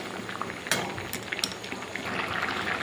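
A pot of paneer curry gravy bubbles at a steady boil, with close, continuous soft popping and a few sharper splutters, no voices.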